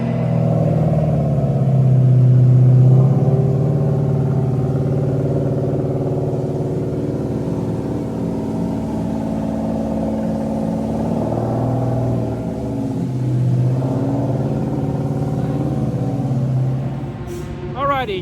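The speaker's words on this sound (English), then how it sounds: "Alrighty, track has gone green. The car is warming up." Ford Mustang GT4 race car engine warming up on a track, a steady low idle rumble with slight rises in revs, continuous and fairly close throughout, with faint background noise.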